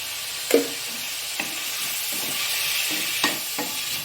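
Tomatoes sauté in a pan for chutney, a steady close sizzle broken by several scraping stirs of a spoon, with no talk.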